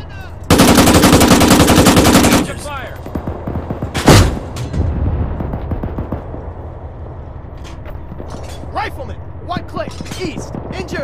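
A sustained burst of machine-gun fire rattles for about two seconds in a WW2 video game battle, followed by a single heavy boom, then scattered distant shots while soldiers shout.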